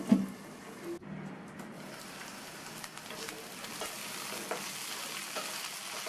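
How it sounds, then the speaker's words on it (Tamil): Eggplant pieces sautéing in a pan, a steady soft sizzle and frying crackle with occasional stirring scrapes, close and continuous without talk. "கத்திரிக்காய் வதங்கிட்டு இருக்கும்போது இந்த மாதிரி அப்பப்போ ஓப்பன் பண்ணி பார்த்து வதக்கி விட்டுக்கணும்"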